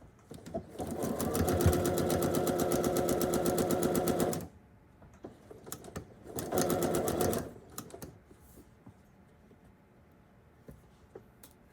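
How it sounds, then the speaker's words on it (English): A sewing machine stitching a tree quilt block runs in a loud, steady whirring burst of a few seconds, pauses, then buzzes again in a shorter second run before falling quiet; no voices are heard. "So I stitched as close to the pin as I could and stopped right before it."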